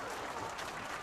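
A crowd of video game spectators in Mabel cheers in a short burst of dense applause and voices, heard continuously and moderately loud.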